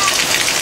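Torrential rain pours down on a house in a mountain area, a dense, loud, continuous hiss of drops striking surfaces up close.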